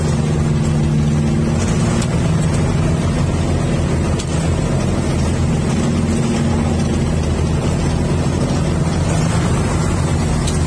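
A boat engine drones steadily up close with a low, even hum, accompanied by wind and water noise.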